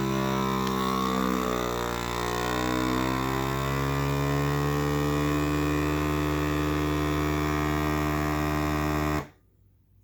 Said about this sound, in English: As soon as it reaches a certain level of vacuum, it'll auto seal.